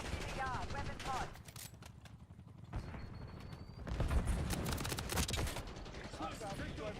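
Gunfire in a Roblox shooter, bursts of shots clustered around the middle and end amid a dense game soundscape, with radio-style voices and game announcements talking over and between the shots.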